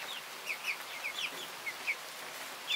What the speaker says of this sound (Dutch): Dit zijn andere kippen.